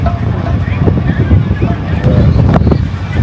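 Strong wind blasts the microphone in a loud, continuous roar at a beach in Miami, with faint voices mixed in.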